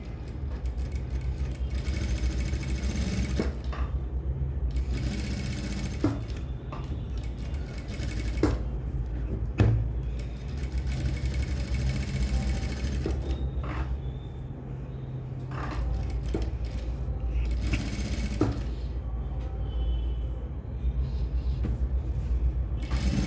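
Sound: sewing machine stitching around blouse piping

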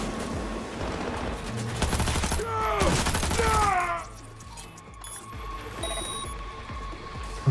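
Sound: power machine gun firing in video game Cyberpunk 2077

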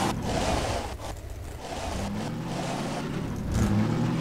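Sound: car driving in Garry's Mod video game

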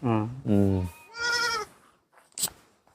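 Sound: goats bleating

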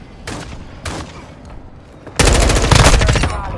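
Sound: gunfire in Call of Duty Modern Warfare II video game

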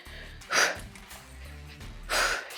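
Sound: heavy breathing during ab workout

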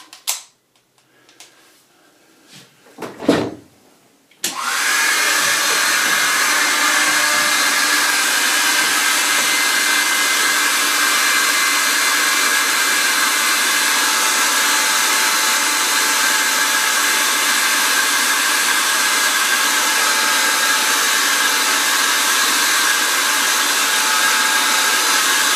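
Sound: hair dryer blowing

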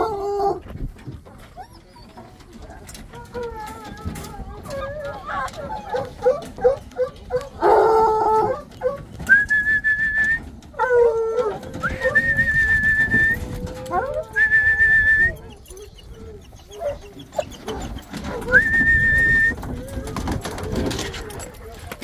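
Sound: hunting dogs released, with whistling

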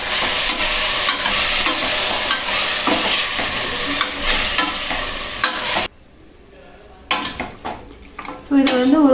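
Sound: mutton being stirred and sautéed in a pan

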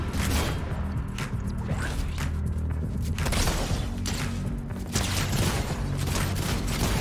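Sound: gunfire in the video game Fortnite

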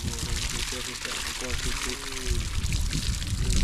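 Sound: water pouring from a solar-powered borehole pump

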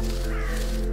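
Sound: ravens cawing in the video game Röki

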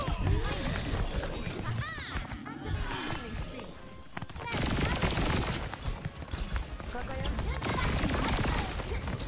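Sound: Tracer's guns firing in Overwatch video game

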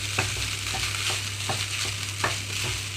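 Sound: stirring coconut rice in a pan

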